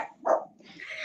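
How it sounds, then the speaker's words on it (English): Dogs barking indoors during a crochet livestream, one sharp bark followed by a fainter rising yelp, brief and moderately near. "My dogs are barking."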